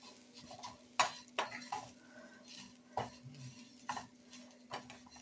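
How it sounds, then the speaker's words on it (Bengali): Lachha frying in ghee in a pot, a quiet soft sizzle broken by several sharp metallic clinks and scrapes of a spoon stirring against the pan. "লাচ্ছাগুলোকে একটু এই ঘি ভেজে নেব।"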